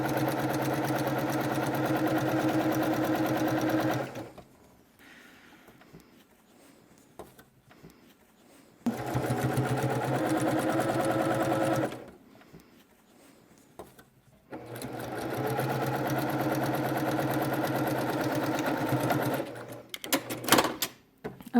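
A sewing machine topstitches along the curved edge of a fabric mask in three long steady bursts of humming, rapid stitching, separated by quiet pauses, with faint handling at the end.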